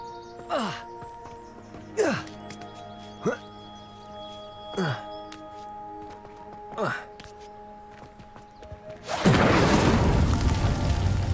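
Several brief descending swooshes sound in a loose series, then a fire spell in Hogwarts Legacy erupts into a loud, broad roar of flame at the end.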